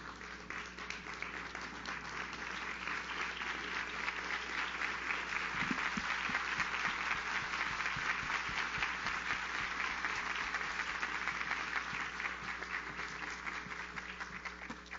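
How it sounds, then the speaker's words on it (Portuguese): A standing ovation for a senator at a civil code congress in Brazil: dense, sustained crowd clapping that holds at an even level throughout, heard from a distance in a large hall. "E eu peço para todos uma salva de palmas de pé para o nosso senador Rodrigo Pacheco."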